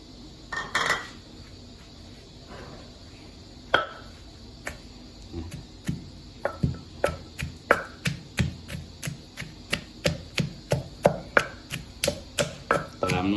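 Garlic, shallots and chili are pounded in a mortar for a Thai nam prik dipping sauce for pork: a few scattered knocks, then a steady, quickening run of sharp thuds close by, with no talk.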